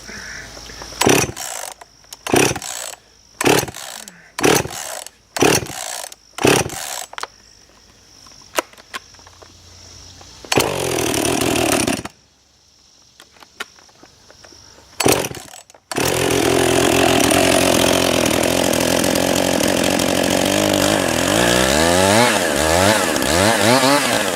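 A chainsaw in post-hurricane cleanup is cranked repeatedly, giving about eight short sharp pull-start bursts with sputters and pauses, then it catches and roars steadily and loudly up close, its pitch wavering as the throttle is worked.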